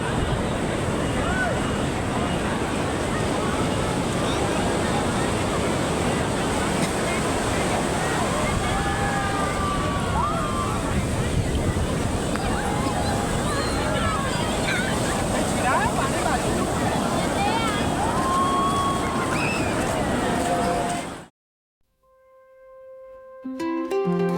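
Ocean waves crash on the shore at Puri beach at sunset, a loud continuous roar with wind over the microphone that cuts off abruptly near the end.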